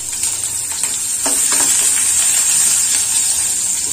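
Food frying in a pan in a home kitchen, a continuous bright sizzle with a few scraping stirs and clinks of a utensil near the middle, close and fairly loud, no talking.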